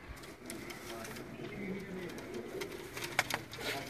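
Breeder pigeons cooing in a coop, soft repeated coos at moderate distance while people talk over them.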